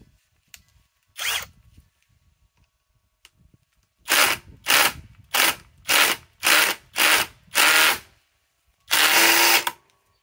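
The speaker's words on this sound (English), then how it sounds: "Yeah, not the impact wrench, the impact driver." A Harbor Freight Hercules impact driver hammers into hard wood in a series of loud, rapid bursts: one short run, then six closely spaced bursts and a longer final burst, with nobody talking.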